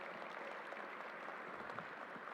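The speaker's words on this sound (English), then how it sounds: "Let's give a round of applause to Alan Steele as well." A crowd applauds at a 9/11 20th-anniversary event honouring the New York National Guard, with a steady wash of clapping from many hands heard at a distance, faint and even throughout.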